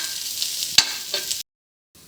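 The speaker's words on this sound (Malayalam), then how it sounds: "ഇത്രയും സാധനം നമുക്ക് ആദ്യം ചട്ടി ചൂടായതിലിട്ടൊന്ന് വറുത്തെടുക്കണം" Onion, ginger and curry leaves fry and stir in a hot pan, a soft steady sizzle with a sharp scrape or clatter partway through, then a sudden cut to near silence before the sound resumes faintly.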